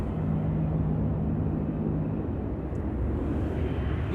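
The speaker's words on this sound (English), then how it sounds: "You can still hear the props from the Dash 8-100 from the Coast Guard so clearly." Propellers of a Coast Guard Dash 8-100 turboprop at Amsterdam Schiphol Airport make a steady, low, continuous drone with a faint hum, unbroken and without voices.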